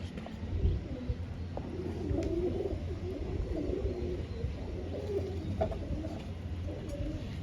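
Soft, low pigeon cooing repeats steadily through the whole stretch beside a bird keeper working with a pigeon, with faint background noise and no clear talk.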